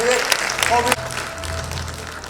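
Loud audience applause at the Dadasaheb Phalke Award 2017 ceremony, many hands clapping continuously as a voice talks over it throughout.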